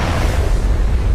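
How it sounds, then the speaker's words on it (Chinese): An animated magic potion lab blast: a loud, dense explosion rumble with heavy low boom and broad crackling noise fills a short moment without pause. "怎么会出现爆炸这种失误？"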